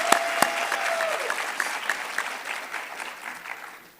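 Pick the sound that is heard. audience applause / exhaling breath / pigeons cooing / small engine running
audience applause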